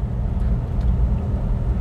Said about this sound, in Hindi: मैंने फर्स्ट गियर में ली गाड़ी, गाड़ी उठाई